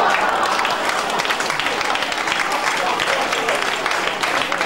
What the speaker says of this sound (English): A lot of you clapping